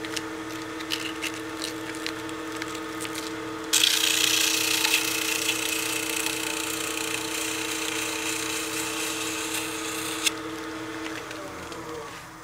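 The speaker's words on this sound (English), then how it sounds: "And then we'll get our sandpaper." On a wood lathe, sandpaper is pressed against a spinning wooden cigar case tube, giving a loud, sustained abrasive rasp over the machine's steady hum, then stopping while the lathe keeps running.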